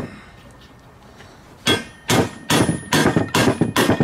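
A hammer drives a bearing into a go kart axle hub: after a quiet stretch come six sharp metallic blows in a fairly even rhythm, loud and close, each with a bright clanging ring, and no voices.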